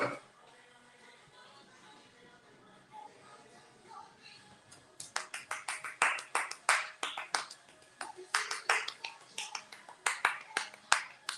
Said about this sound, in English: That's how you clap when you're in an apartment.